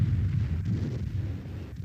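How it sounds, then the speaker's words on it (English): Distant low rumbling roar like a heavy explosion from a World War II V-1 flying bomb striking the ground, a sustained deep boom with no voices. "its sudden silence before it impacted with the ground in a great explosion"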